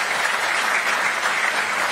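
A crowd at the official launch ceremony of the Kazungula Bridge claps loudly and steadily, a thick, even roar of many hands with no voices over it.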